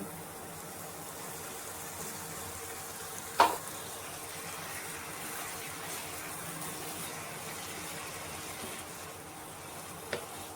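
Tomato paste sizzling in a pan of frying spices with coriander powder and a little water, a soft steady crackle with a brief clatter of stirring.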